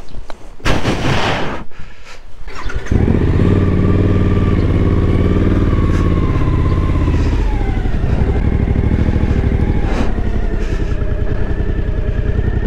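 A motorcycle engine starts after a few bangs and clatters, then idles loud and close with a rough, throbbing rumble, outside a hostel in Ulaanbaatar, Mongolia.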